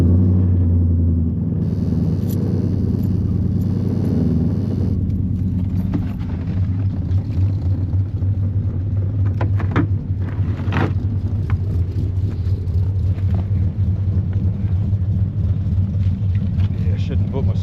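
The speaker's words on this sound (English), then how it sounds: "Start the old truck before we get out" An old truck with a camper, parked in a blizzard, rumbles at a steady idle, a loud, low engine drone that continues throughout, with someone talking faintly over it.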